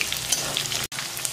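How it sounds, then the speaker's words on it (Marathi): Peanuts frying in oil on low heat for poha chivda, a soft continuous sizzle at close range with a brief dropout near the end. "आता हे शेंगदाणे चांगले लाल रंगावर तळून घेऊ"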